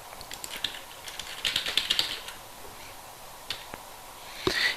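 A password is typed on a computer keyboard in quick, close, light key clicks. The clicks come in uneven bursts with short pauses and end on a louder final tap.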